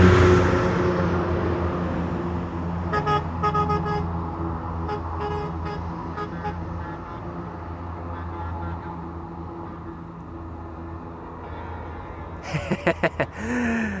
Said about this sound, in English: You can hear them sounding the horn.